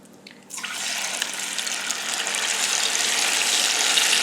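Cornstarch mixture poured slowly into used cooking oil, a steady hissing liquid pour that starts abruptly after a brief quiet moment and continues evenly, close and fairly loud.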